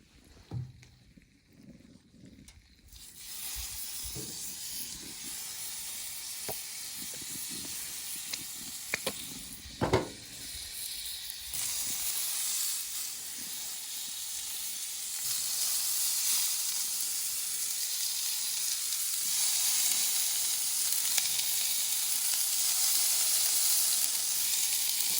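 Steady sizzling of burgers on a hot oiled Blackstone 28-inch griddle, starting quietly and swelling into a loud, continuous hiss with a few faint clinks.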